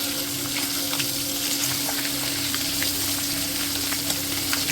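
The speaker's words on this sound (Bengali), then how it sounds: "এবার ওই গরম তেলের মধ্যে ম্যারিনেট করা মাছগুলো দিয়ে ভালো করে ভেজে নিতে হবে।" Marinated rohu fish pieces fry in hot mustard oil, giving a dense, continuous close-up sizzle with faint crackles and a low steady hum beneath, no voices.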